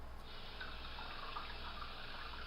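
Water runs steadily from a tap into a jar of tomato seeds, a faint continuous rushing pour with no breaks or voices.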